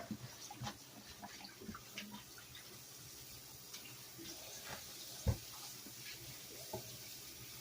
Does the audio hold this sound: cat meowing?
no